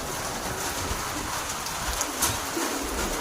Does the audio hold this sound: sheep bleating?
no